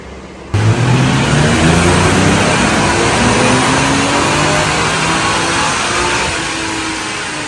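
A stock Toyota Chaser JZX100 engine pulls hard on a dyno with the air conditioning on, a loud, sustained close-up roar that climbs steadily in pitch through the rev range and eases slightly near the end.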